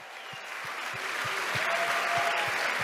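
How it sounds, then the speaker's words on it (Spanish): An audience claps continuously, building from moderate to fuller applause, with a faint steady thumping beat running underneath. "Aplausos."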